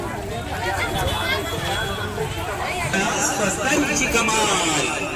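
Dense, steady crowd chatter fills a busy village temple fair at Kolivali-Neral, a continuous babble of many voices with no single voice standing out.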